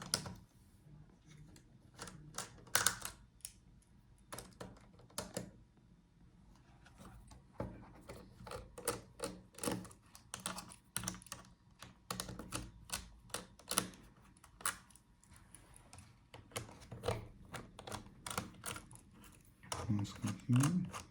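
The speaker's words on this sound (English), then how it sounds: "So let's take out the screws for the hinges." Hinge screws are removed from an Asus ROG Strix G512 laptop during disassembly, with a series of close, sharp metallic clicks and ticks in irregular bursts, along with a few soft handling noises.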